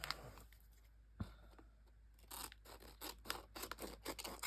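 Quiet snipping and rasping sounds repeat in short bursts as scissors cut through stiff packaging close by, with occasional scraping and a soft thump.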